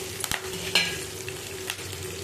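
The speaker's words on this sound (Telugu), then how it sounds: "వెల్లుల్లి, ఎండుమిర్చి, కరివేపాకు అన్నీ వేసి బాగా పోపు పెట్టుకోవాలి." Garlic, dried red chillies and curry leaves sizzle in hot oil for a tempering, a steady close hiss broken by a few sharp spoon clinks against the pan.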